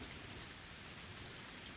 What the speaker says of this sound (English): Just then there was thunder in the distance, and a heavy rain started pouring down.